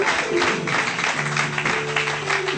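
Church congregation clapping during a sermon, a fairly quiet, steady patter of many hands with faint tones and voices beneath.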